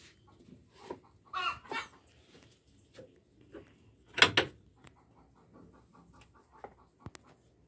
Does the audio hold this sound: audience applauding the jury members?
no